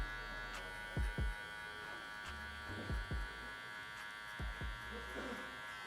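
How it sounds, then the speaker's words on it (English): Electric hair clippers buzz continuously close by while a taper fade is blended on a graduated brush back haircut, a steady hum with someone speaking softly over it in short bursts. "being real soft and ramping out my clipper to blend up"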